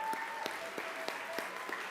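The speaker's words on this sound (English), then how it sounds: "Please give them a strong round of applause" Audience at a disabilities summit clapping, a brief burst of scattered, moderately distant applause from a modest crowd, sharp individual claps audible within the patter.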